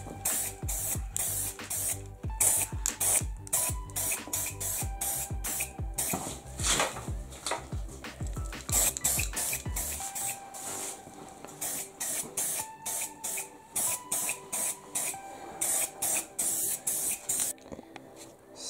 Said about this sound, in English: I just got myself here some regular automotive primer. I'm gonna just spray on here.